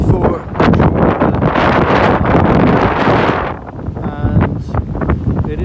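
Strong gusting wind from Storm Ciara roars and buffets the microphone almost continuously, easing briefly before surging again, with a low rumble beneath.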